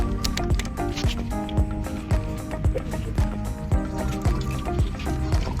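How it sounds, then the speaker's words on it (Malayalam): Water is poured outdoors while preparing freshly caught fish for cooking, a wet, splashing trickle with irregular sloshes and light knocks, fairly close and unbroken by speech. "കുറച്ച് വെള്ളം ഒഴിക്കും."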